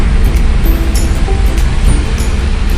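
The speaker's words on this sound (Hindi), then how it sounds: "अभी एक तेज़ रफ्तार गाड़ी गुजरी" A fast car passes on a rain-soaked road, its tyres hissing through standing water in a loud, broad wash over steady heavy rain, close by.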